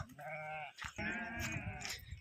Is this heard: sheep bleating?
yes